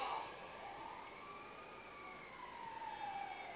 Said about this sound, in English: Hey, an ambulance!